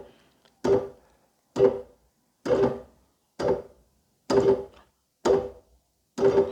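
A reggae organ's right hand plays a steady offbeat chop, seven short percussive stabs evenly spaced, each trailed by a quick slapback echo, close and clear with no talk.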